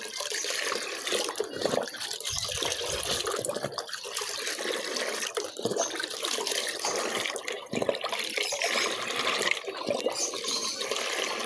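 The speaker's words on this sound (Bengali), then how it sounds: "পানিগুলো ভালো করে মিলাইতে হবে।" Water mixed with rice starch water for pigeons sloshes and splashes continuously, churned by hand with a few brief pauses, close by and fairly loud.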